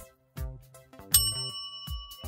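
An electric bell rings in a series of bright metallic dings with lingering tones, several strikes spaced irregularly over a couple of seconds.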